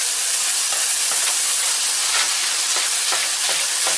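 Steam hissing steadily from the small lid vent of a T-Fal non-stick jumbo cooker as meat cooks inside, a continuous close broadband hiss with faint sizzling ticks scattered through it and no talking.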